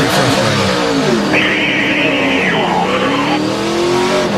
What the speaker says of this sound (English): Yeah, you rev the engine a few times.